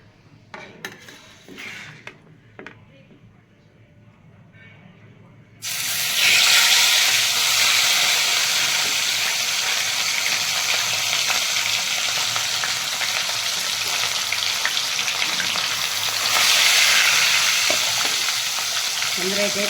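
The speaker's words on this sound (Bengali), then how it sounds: "মাছগুলো এবার কিন্তু ভেজে নেব।" Pieces of katla fish dropped into hot oil in a kadai burst into a loud, steady sizzle that continues to the end, after a few seconds of quieter pan and utensil clatter.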